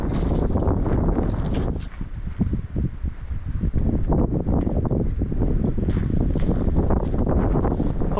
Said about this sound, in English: Hopefully you can still hear me in the wind.